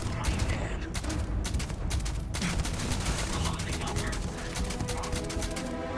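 Rapid bursts of gunfire from the video game Starfield, a dense, loud volley of overlapping shots and sharp cracks that runs the whole stretch, with a blast as a boost pack is hit.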